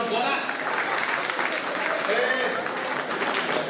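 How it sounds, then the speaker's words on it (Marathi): An audience at a Marathi motivational talk applauds, a dense, even wash of clapping holding steady throughout at moderate loudness. "आता या दोघीच्यासाठी टाळी झाली पाहिजे. कडकडून जोरात."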